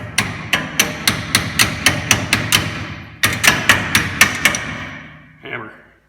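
Hammer blows strike a stuck sway bar link on a Ford F100 fitted with a Crown Vic swap, steady metallic clangs in two quick bursts of about eight and six hits, then a fading thud.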